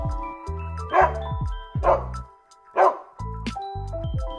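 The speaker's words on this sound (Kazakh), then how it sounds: "Ит." A dog barks three times in short, loud bursts spaced about a second apart, over a steady backdrop of tonal music.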